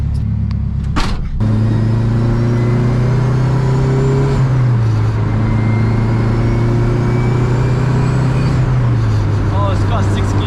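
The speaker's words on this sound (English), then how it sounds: "So there's only one thing to do, go for a drive." A 450 bhp turbocharged Honda Civic EK drives on the road, its engine droning loud and close, climbing in pitch under acceleration, dropping with gear changes, then pulling again.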